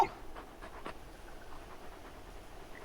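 Dog panting in Final Fantasy XVI, a steady soft breathy rhythm over quiet game ambience, faint and without speech.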